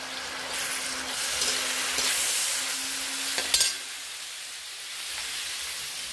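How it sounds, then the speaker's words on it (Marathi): Soy sauce splashes into vegetables frying in a pan, with a steady broadband sizzle and stirring scrapes, one brief louder burst midway, then a softer continuing hiss. "आता आपण सोया सॉस टाकायचं."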